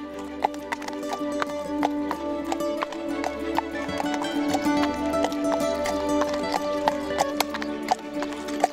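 Horse hooves clip-clopping steadily at a walk on a hard surface in Belgium, with an occasional whinny, close and continuous through the clip.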